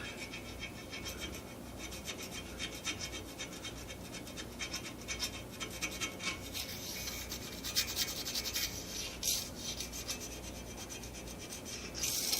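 Steady rasping scrape of rust being worked off the ways of an old giant square machine, continuous and close with uneven strokes and bursts of harsher grinding near the end.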